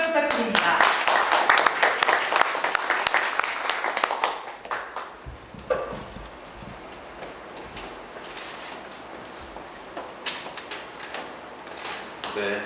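An audience at the opening ceremony of a craft exhibition in Tongyeong claps loudly for about five seconds. The clapping then thins to a few scattered claps and quieter room noise.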